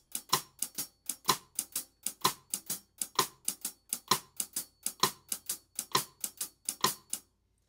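A shuffle beat on hi-hat with snare rim clicks: crisp, evenly swung strikes in a steady loping rhythm, close and dry, about two dozen hits before stopping, no talk.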